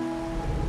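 Rain falling in the video game Wuthering Waves, a steady soft hiss with a low rumble beneath and a faint sustained tone, brief and continuous.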